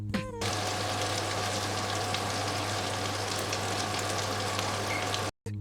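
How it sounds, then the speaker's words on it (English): Loud, continuous sizzling of French toast in a frying pan close up, a steady crackling hiss with a low hum beneath, briefly cutting out near the end. "You really want to get that nice sizzle."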